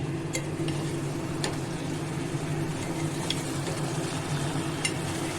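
A spatula stirs vegetable curry in a pan, with a steady low sizzle and occasional faint scraping clicks against the metal, continuous and close.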